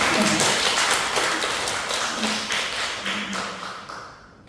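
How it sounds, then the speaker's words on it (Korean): A church congregation at a staff worship service claps together after a singer's testimony, a dense burst of applause that starts loud and gradually thins and fades out over several seconds. "박수 주세요."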